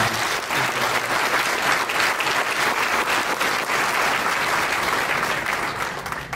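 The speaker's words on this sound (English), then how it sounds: "How about a round of applause for my mom?" Audience at a hall of fame ceremony applauds in a steady, dense wash of clapping that holds loud and even throughout, with no voices above it.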